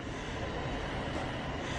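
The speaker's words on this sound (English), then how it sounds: "There's a train there for Gatwick that is running late." Low rumbling rail noise at Bedford station on a sunny day, a steady, moderately quiet broadband drone of a train idling or passing, with no voices.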